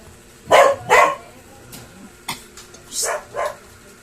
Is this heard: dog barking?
yes